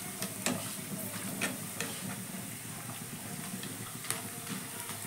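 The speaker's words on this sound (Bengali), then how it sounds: "আমি দিয়ে দিচ্ছি কয়েকটা চিপস। দেখো চিপসগুলো তেলে দেওয়ার সাথে সাথেই কিন্তু খুব সুন্দর হয়ে ফুলে যাচ্ছে।" Sago chips hiss and sizzle in hot oil, puffing up as they fry, with a steady bubbling crackle and scattered sharper pops and stirring clicks, fairly quiet and close.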